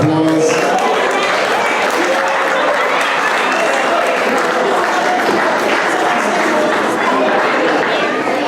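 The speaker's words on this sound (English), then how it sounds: "Another round of applause." Another round of applause from a congregation at a Jehovah's Witness event as cast members gather at the front, loud, continuous clapping from a large crowd with faint chatter underneath.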